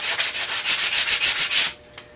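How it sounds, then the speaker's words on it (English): Rhythmic back-and-forth sanding strokes on the edges of a wooden sweater-shaped pumpkin, about ten close, even rasping passes, then a quiet pause with one faint scrape. "Okay, so I'm just going to sand the edges and the side here."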